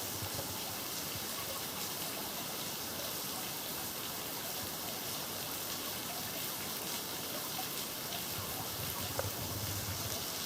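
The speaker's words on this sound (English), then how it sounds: "Pearl Beach Falls" A small waterfall at Pearl Beach Falls on the Central Coast gives a steady, even wash of splashing water, faint and unbroken from start to finish.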